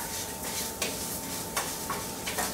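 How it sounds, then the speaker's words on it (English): Rice and garlic frying while being stirred in a pan for Spanish Mexican rice, a steady close sizzle broken by a few soft scraping stirs. "as I'm stirring the rice to get it white hot, I add the garlic in, and this will also fry the garlic"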